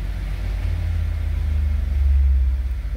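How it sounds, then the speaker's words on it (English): A 2011 BMW 328i engine runs steadily after fuel pump control module coding, giving a close, continuous low rumble that swells slightly toward the end, with no talking. "Now the car is running fine."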